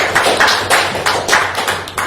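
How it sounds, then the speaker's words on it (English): An audience at a debate claps in a steady patter of handclaps with regular bursts of applause. The clapping runs for a couple of seconds with no talking over it. "so a little round of applause"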